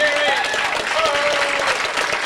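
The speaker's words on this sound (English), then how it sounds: "Let's give him a nice round of applause" Warm, sustained audience applause at a live Irish music gig, many hands clapping together at close range, with a few voices faintly heard through it.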